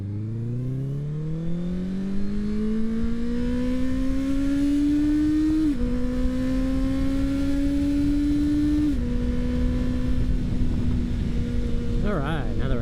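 A Honda CBR650R E-Clutch motorcycle ridden and accelerating, its engine note climbing steadily in pitch and dropping with two clean gear shifts, loud and close, with wind noise and a voice briefly at the end.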